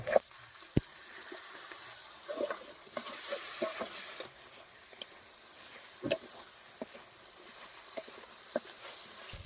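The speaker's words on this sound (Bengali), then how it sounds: "আমরা হালকা পরিমাণ জল দিয়ে মশলাগুলোকে কষিয়ে নেব" Spices for a goat tripe curry cook down with a splash of water, a steady soft sizzle under intermittent scraping and clinking of a stirring spoon against the pan, close and fairly quiet, no talking.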